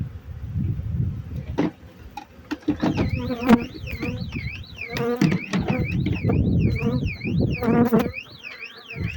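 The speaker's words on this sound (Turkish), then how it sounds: "Çok arı giriyor öyle." Bees buzz loudly and close, many droning wings weaving up and down in pitch, with people talking intermittently underneath.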